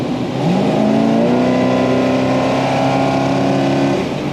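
A car engine revs hard at wide open throttle with the AC running, climbing in pitch, a loud sustained roar that rises then holds before easing off at the end.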